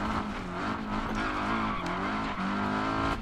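A rally car engine in the video game DiRT 4 drones steadily at high revs, with pitch shifts between gears and a brief tire scrub, loud and continuous throughout.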